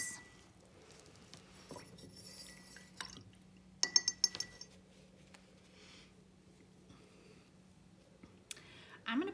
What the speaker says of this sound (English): So I'm gonna rinse out my brush